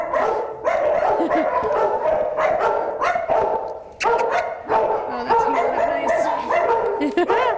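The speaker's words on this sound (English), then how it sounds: "with all those dogs barking, that's too many dogs in that place" Many dogs barking in an animal shelter, a dense continuous chorus of overlapping barks and yips, loud and close, with people talking underneath.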